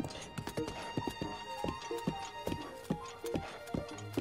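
Quiet, rhythmic horse hooves clop quickly and evenly over a soft musical background as a horse gallops in The Legend of Zelda: Breath of the Wild.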